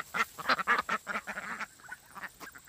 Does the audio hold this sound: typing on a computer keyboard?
no